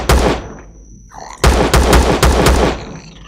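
Gunfire from the game Empyrion: Galactic Survival aimed at an alien insect at night: one loud shot opens, then after a pause a rapid burst of several heavy, close shots follows, with faint tonal game sounds in between.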